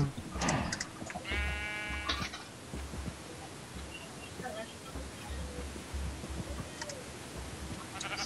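Sheep in the Minecraft video game give a couple of short, nasal bleats early on against a steady hiss of background noise, with some low thumps and scattered game sounds afterward.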